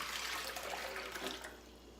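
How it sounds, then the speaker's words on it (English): A full mason jar of water, about four cups, pours into a Vitamix blender for a smoothie, producing a steady, faint splashing rush that tapers slightly toward the end. "I'm gonna use a full mason jar of water. That's what I'm gonna use to mix everything up."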